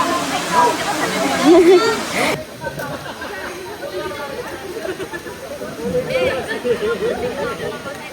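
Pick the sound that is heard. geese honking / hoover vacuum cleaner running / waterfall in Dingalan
waterfall in Dingalan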